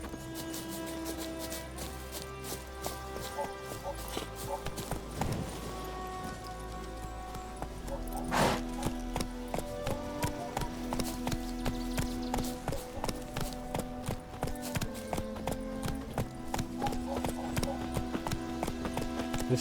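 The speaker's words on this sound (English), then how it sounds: "I never did this riding the horse behind him before" Steady clip-clopping of a horse's hooves as it is ridden at pace through the woods in The Witcher video game, rhythmic and close, carrying on for the whole stretch over a game soundtrack and ambience.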